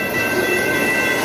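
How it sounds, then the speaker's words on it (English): A freight train rolls past on a Fourth of July night, a loud, steady rumble with grinding wheel noise and faint high metallic squeal held throughout, close and continuous with no voices. "A freight train and fireworks to boot."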